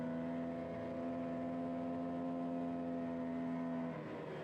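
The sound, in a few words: racing motorcycle engine at high revs in fifth gear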